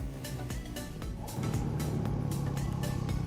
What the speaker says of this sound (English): John Lyles did get that bike started, and he is back on track going.